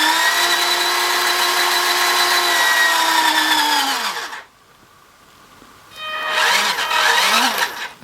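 Fayee FY004A military RC car reversing, its electric motor giving a steady, close high-pitched whine for about four seconds before winding down; after a short lull, a second, wavering whine starts up.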